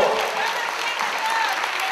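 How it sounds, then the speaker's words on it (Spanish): An audience applauds steadily at a celebration for older adults in Yautepec, the dense clapping staying even and continuous throughout, with faint voices mixed in. "Un fuerte aplauso, por favor."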